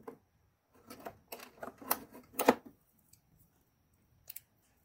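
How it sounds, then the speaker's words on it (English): Hose clamp pliers ratcheting shut on a clamp, a quick cluster of sharp close metallic clicks followed by quiet and then a final double click. "the ratchet mechanism does work on these, and it's sitting there holding the clamp"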